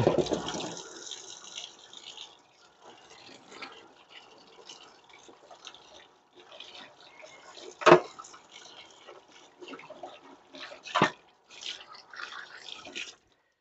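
Water mixed with a blended paste is added to a cooking pot for river-fish asam pedas. Quiet, sparse drips and splashes are broken by a few sharper louder spills, close by and without talking.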